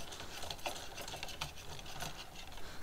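A metal lead screw is turned and threaded through the block of a metal CNC router mill under construction. Close, steady mechanical clicking and ratcheting rattle on continuously at a moderate level with no voices.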